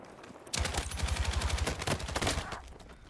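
Rapid automatic gunfire from Battlefield 6 rattles in a fast, even burst for about two seconds. The shots are loud and close, with a deep thudding low end, then they fade away.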